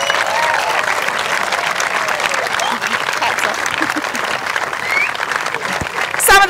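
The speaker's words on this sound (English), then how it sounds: "So a huge round of applause for our umpires" Sustained crowd applause honoring the umpires at the British Slowpitch Softball Final, a steady wash of clapping from a large group that continues throughout and swells slightly near the end.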